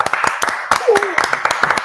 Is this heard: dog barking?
no